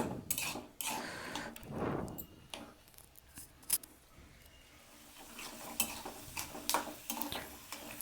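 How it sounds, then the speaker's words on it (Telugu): Peanuts frying in hot oil for temple-style tamarind rice, a soft crackling sizzle broken by repeated sharp scrapes and clinks of a spoon stirring against the pan, with no talking. "ఫస్ట్ వేరుశనగపప్పు వేయించుకోవాలి"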